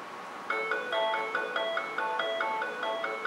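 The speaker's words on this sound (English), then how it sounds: "Alright, interrupted by phone." Phone ringtone chirping in a quick, regular repeating electronic pattern, close and clear, starting abruptly and continuing steadily in a quiet workshop.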